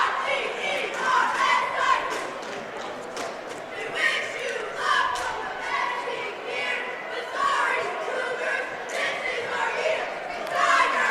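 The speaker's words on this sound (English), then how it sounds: "the Centralia cheerleaders do their opening cheer" Centralia cheerleaders chant their opening cheer at a boys Class L basketball tourney semi-final against Carbondale, a loud continuous crowd of voices shouting in rhythm with bursts of noise throughout.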